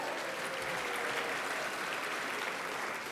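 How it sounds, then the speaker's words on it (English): A large audience at a civic State of the Cities event applauds and cheers in a dense, continuous wash of clapping that holds steady from start to finish. "Cheer for your friends."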